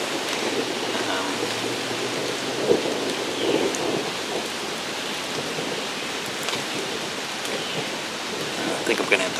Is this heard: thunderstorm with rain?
yes